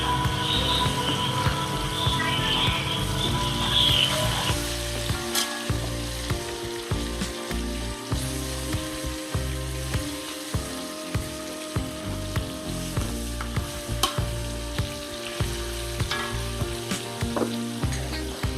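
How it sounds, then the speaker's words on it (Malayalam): Masala-marinated chicken frying in a little oil, a loud, close, crackling sizzle that runs throughout, with regular clatters of stirring. "ഇനി നന്നായി മസാല ചേർത്ത് വെച്ചിരിക്കുന്ന ചിക്കൻ നമുക്ക് എണ്ണയിലേക്ക് ഇടാം എണ്ണയിലേക്കിട്ട് ചെറുതായിട്ടൊന്ന് മൂപ്പിച്ച് എടുക്കാം"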